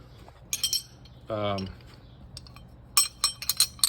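Metal clinking as a socket is fitted onto a torque wrench during a rear brake job on a 2017 Chrysler Pacifica, with scattered sharp clinks near and close, a brief tonal scrape in the middle, then a quick run of light taps.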